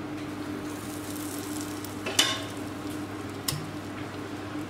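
Butter sizzling in a hot pan on the stove while kuska (plain biryani) is being made: a faint, steady hiss broken by a couple of sharp spatters and clinks.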